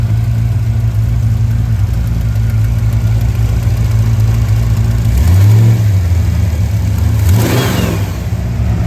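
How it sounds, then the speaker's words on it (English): A supercharged gasser car engine with Holley Sniper EFI 2 fuel injection runs loudly and steadily up close, with a couple of brief revs swelling the rumble midway through. "The engine, it runs."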